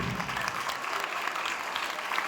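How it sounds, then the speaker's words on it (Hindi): A church congregation gives a round of applause, a continuous, moderately quiet patter of many hands. "आपकी भरपूर तालियों"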